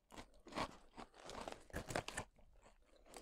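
Crab-flavoured crunchy snacks being chewed close up, with a steady run of loud crisp crunches and bites across a few seconds, no talking.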